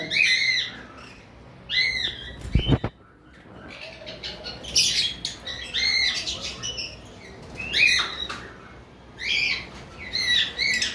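Pet lovebirds, split and violet masked pairs, repeatedly giving sharp high chirps and squawks from a cage, close by, with brief wing-flapping and a rattling knock early on, calls coming in bursts throughout.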